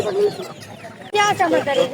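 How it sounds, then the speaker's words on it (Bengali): A rooster clucks up close in a short burst of throaty calls, with other fowl and faint voices in the background. "ওজন মাশাআল্লাহ অনেক সুন্দর একটা মোরগ আছে"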